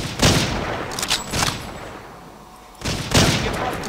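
Gunfire in the video game Hidden & Dangerous 2, three loud broadband bursts with a quiet gap between the second and third, each with a rough decaying tail.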